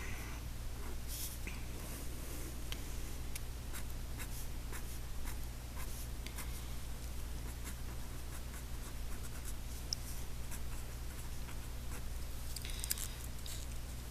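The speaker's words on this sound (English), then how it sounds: "So I'm going to draw a yellow rod." A marker or pen scratches steadily across a surface while drawing a rod for a math lesson on ratios, faint and continuous over a constant background hum.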